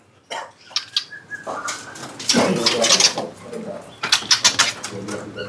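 Several birds, including a magpie robin, chirp and call in short bursts over a busy background at a bird market stall, with occasional thumps and faint voices nearby.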